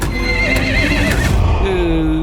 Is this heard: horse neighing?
yes